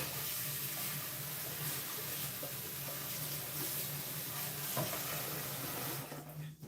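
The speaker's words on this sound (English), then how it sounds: "Want to wash and rinse out the soup pot real good." Tap water runs steadily into a kitchen sink while a soup pot is rinsed out, a constant close hiss and splash with a few clinks near the end as the flow stops.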